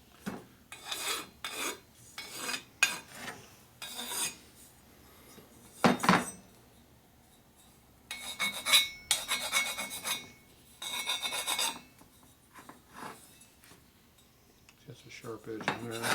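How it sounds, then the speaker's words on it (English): Hand file scraping and rasping over an edge of a Harley shovelhead engine case during deburring, in irregular bursts of metallic filing strokes with short pauses between, fairly close and with no talking. "Files leave different marks and burrs."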